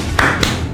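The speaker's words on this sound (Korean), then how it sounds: "우리 대한민국 국민들께 힘내시라고 월드컵 박수 한번 치고 가겠습니다" Korean World Cup rhythmic clapping, two sharp close hand claps about a quarter second apart, loud and isolated.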